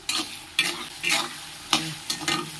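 Onion, ginger-garlic paste and tomato fry in a pan for a jackfruit dish, with a spatula stirring in several separate scraping, sizzling bursts set apart by short pauses, close and fairly clear.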